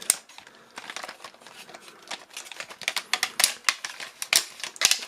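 Plastic parts of a Miniforce X Penta X Bot Pentatron Limited Black Edition toy robot sliding and locking into place, a run of small crisp clicks, scrapes and snaps up close, irregular and getting busier toward the end.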